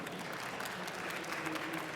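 Audience applause for the panel speakers at a talk on organic and natural building materials, a steady, even wash of clapping filling the room throughout.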